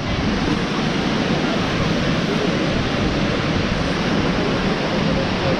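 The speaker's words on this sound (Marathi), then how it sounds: "इकडे एक धबधबा." Thosegar waterfall in Satara roars as a dense, steady rush of falling water, loud and constant throughout with no pauses or talk.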